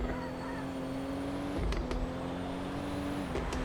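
A throaty car engine from the Used Cars Simulator game, on a rich-running car, holds a steady hum with a small rise and a quick dip, fairly quiet, with a few sharp clicks over it.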